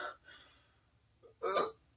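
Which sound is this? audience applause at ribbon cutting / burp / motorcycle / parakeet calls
burp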